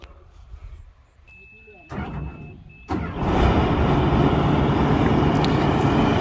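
A car starts up and drives off to be parked, rising from quiet background sounds to a loud, steady engine roar close by.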